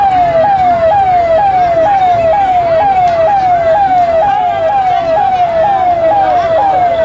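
Ambulance siren stuck in a roadside traffic jam near a market, its rising-falling wail repeating in a fast regular cycle, loud and close and dominating the scene.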